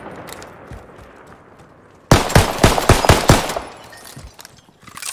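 Video-game gunfire from Call of Duty Warzone: a sudden loud burst of rapid shots starting about two seconds in, several sharp cracks in quick succession, then tapering to scattered fainter pops over low background noise.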